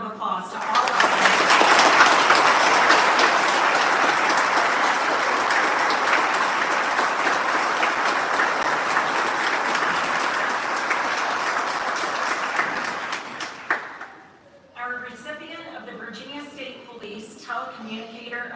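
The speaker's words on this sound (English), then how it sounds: "let's give a round of applause to all of them." A ceremony audience at the Virginia State Police Superintendent's Awards gives a long, loud round of applause for troopers, dense clapping that swells and then fades away before a voice starts talking.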